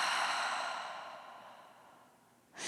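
A long, soft exhale through the mouth during yoga breathing, a close airy breath that slowly fades, followed by the start of a fresh breath at the end.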